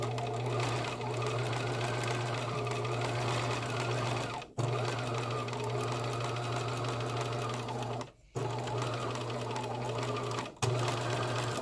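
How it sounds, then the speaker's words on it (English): A sewing machine stitches a fabric seam with a steady, close mechanical hum and rapid needle chatter. Three brief stops break the run before stitching resumes. "Make sure you do several stitches before you backstitch, or it might eat the fabric."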